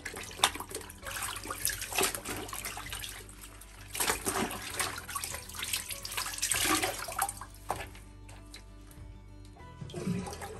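Tap water runs steadily into a basin while a wool sweater is hand-washed in cold water, a close, continuous splashing flow with brief shifts as hands move through it, with no talk.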